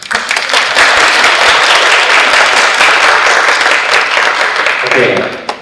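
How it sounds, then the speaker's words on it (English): An audience claps steadily through a business presentation on HIV treatment, a dense, loud wash of many hands that holds for several seconds before tapering off near the end. "Another clap."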